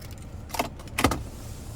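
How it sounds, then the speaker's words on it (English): A 2022 Chevrolet Equinox RS key fob handled up close, two short metallic jingles about half a second apart inside a quiet car interior. "here's our key fob with remote start"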